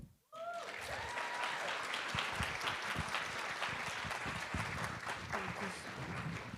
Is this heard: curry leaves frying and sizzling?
no